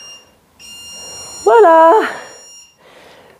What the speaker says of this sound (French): Les bips longs vont nous dire qu'on a terminé la séquence.